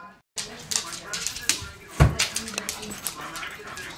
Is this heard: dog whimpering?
yes